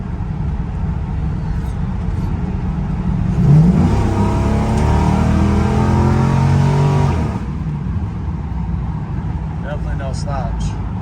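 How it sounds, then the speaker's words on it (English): A 1971 Pontiac Firebird restomod with automatic transmission kicks down and accelerates hard, the engine swelling into a loud, close roar for several seconds before easing off, with talking throughout inside the car. "Tranny shift strong. Kick down is excellent on it too."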